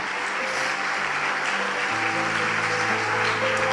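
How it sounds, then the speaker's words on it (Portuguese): Applause from a church congregation during a Portuguese-language celebration service, a dense, sustained wash of many hands clapping at once, loud and continuous over a faint musical backing. "Então dê um aplauso ao Senhor Jesus."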